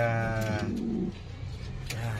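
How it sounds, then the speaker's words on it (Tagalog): Low, throaty cooing of fantail pigeons close by in a cage, a rolling murmur that rises and fades in short repeated phrases. "yung kalapati na pinaliguan natin kahapon"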